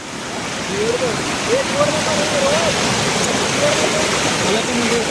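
A river crossed at night during a crab-catching outing rushes and hisses steadily and loudly, with faint thin tonal calls or voices drifting over the continuous flow.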